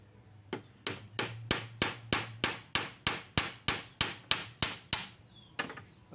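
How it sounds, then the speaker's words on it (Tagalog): Hammer strikes driving nails to fasten poultry netting on a farm: about fourteen sharp, evenly spaced blows in a steady rhythm, close and loud, with a short pause before a final hit. "At huwag yung masyadong ipapagkabaon-baon yung pako."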